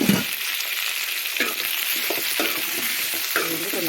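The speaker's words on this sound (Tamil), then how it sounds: "இது கொஞ்சம் வதங்கிறதுக்கு நான் கொஞ்சமாக உப்பு போடுறேன்." Garlic with salt sautéing in a pan, a loud, constant close-up sizzle broken by a few stirring scrapes, with no talk.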